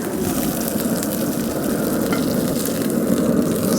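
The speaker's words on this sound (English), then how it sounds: "Seared up pretty good there." Venison backstrap searing on a 500-degree grill, a steady close sizzle and crackle of meat fat that holds evenly throughout with no talking.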